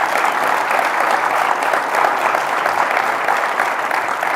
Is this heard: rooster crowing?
no